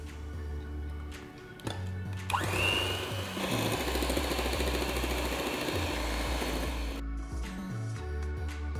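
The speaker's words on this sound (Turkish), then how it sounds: "Öncelikle krema ile pudra şekerini iyice köpürtüyoruz." An electric mixer whips cream with powdered sugar, its motor starting up and then holding a loud, steady whir close by for several seconds before cutting off, with no talking over it.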